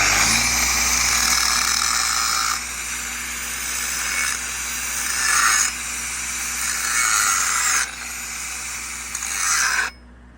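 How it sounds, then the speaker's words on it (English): An angle grinder works a steel pipe fitting button in a fabrication shop, a loud steady whine in several bursts of a few seconds each, with brief dips between passes before it stops. "And then my button here, I like to hit it with the grinder."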